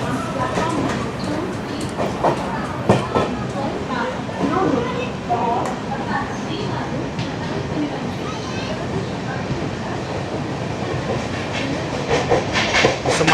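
Onboard a moving MGR Chennai Central to Mumbai LTT SF Express, train 12164, with steady rolling rumble and clickety-clack near and loud, intermittent voices talking over it throughout.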